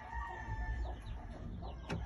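A fighting rooster crows faintly over a steady background hum, with a brief brighter call near the end; the bird sounds distant and the recording stays quiet throughout.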